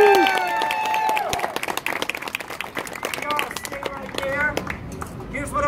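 Applause from a street crowd for a performer at Pearl Street Mall in Boulder, with loud, dense clapping and scattered cheers, close by, and a voice talking over the crowd.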